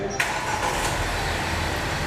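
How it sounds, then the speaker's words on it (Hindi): A 2022 Chery Tiggo 8 Pro SUV engine fires up by remote starter with a short crank and settles into a steady close idle. "आप इस गाड़ी को लॉक करके इसके रिमोट स्टार्टर को दबा के रखेंगे तो ये गाड़ी ऑटोमेटिकली स्टार्ट होगी"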